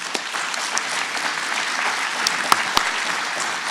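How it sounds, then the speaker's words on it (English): A conference audience gives panelists a warm round of applause at an industry day plenary session, a full, steady roar of many hands clapping with a couple of sharp close claps partway through. "a warm round of applause"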